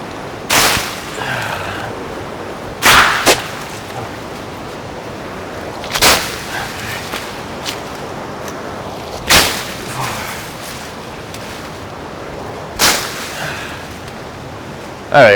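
A Condor Golok-style machete with about a 20-inch blade chops through light brush in sharp, loud whacks spaced every few seconds, each strike a crisp snap followed by rustling, with a voice talking faintly between cuts.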